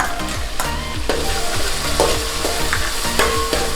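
Garlic paste and onions sautéing in a pan for a Gujarati-style shahi dum aloo, with a steady sizzle and repeated scrapes and stirring knocks over low melodic tones running underneath.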